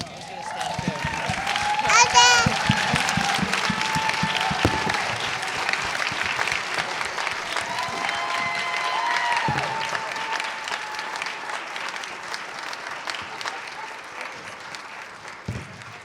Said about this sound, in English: I would love just one more round of applause for our panelists.